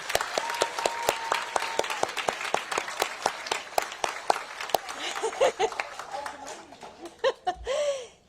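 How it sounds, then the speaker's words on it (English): Audience applause at a children's hospital, a burst of clapping that starts loud and dense, then thins into scattered claps with light laughter and voices as it fades out. "So let's give a round of applause for all the brave kids here."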